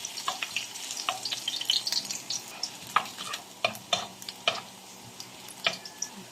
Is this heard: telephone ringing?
no